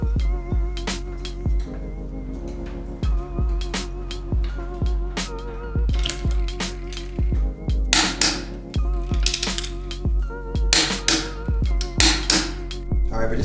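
Lug nuts are torqued down on a lowered vehicle, giving a run of sharp clicks and taps over a steady humming, music-like background.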